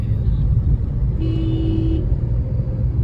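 A car is driven along a city road, giving a steady, loud engine and road rumble throughout, with a brief high tone partway through.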